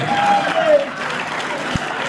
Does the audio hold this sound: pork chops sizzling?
no